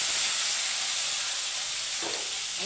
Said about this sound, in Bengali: দিয়ে টমেটোটা ভালো করে ভেজে তোমাদেরকে আবার দেখাবো